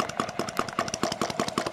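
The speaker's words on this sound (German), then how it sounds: "wie der Motor zu seinem Namen gekommen ist, Flammenfresser, weil er hier die Flamme in diesen Kanal einfrisst" A self-built hot-air flame-licker model engine runs steadily, its close, rapid, even chuffing beats repeating about five times a second with a faint mechanical hum underneath, no talk.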